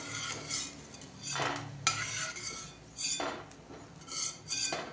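Roasted peanuts are scraped out of a pan onto a plate while cooking upma, making bursts of metallic scraping and clinking with short quiet gaps between them.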